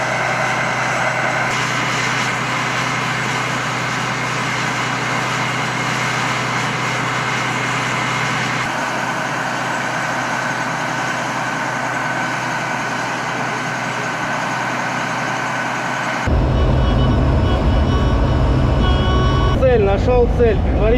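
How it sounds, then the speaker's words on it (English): Engine of a Tunguska M-1 self-propelled anti-aircraft gun, a steady loud diesel rumble running throughout, shifting to a harsher, louder roar near the end. "crews of the Tunguska M-1 self-propelled anti-aircraft gun continue to protect Russian troops from air attacks"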